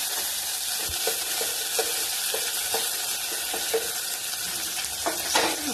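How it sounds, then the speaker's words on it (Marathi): Mustard seeds, cumin, curry leaves and coriander hit hot oil with browned garlic, crackling into a steady loud sizzle with scattered popping spatters and a spoon stirring close in the pan. "आपण यामध्ये टाकणार आहोत आता मोहरी, जिरे, कढीपत्ता आणि कोथिंबीर"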